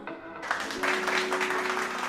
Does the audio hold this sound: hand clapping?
yes